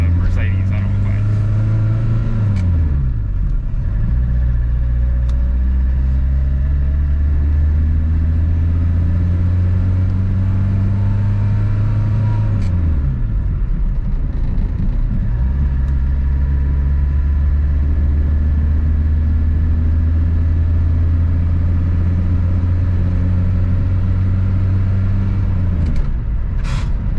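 A 1981 VW Dasher diesel car with no power steering drives along. Its engine drones loudly and steadily, and the pitch drops and climbs again as the gears are shifted.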